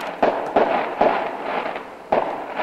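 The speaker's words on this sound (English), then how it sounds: "I literally woke up at a minute to because the fireworks going off." New Year fireworks bursting outside, a run of sharp loud bangs spaced irregularly with crackling and rumbling tails in between, fairly close and continuous over a few seconds.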